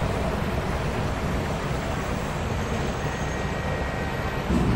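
Elevated BTS Skytrain cars passing over central Bangkok, a steady, loud rumbling roar that holds for several seconds with no voices.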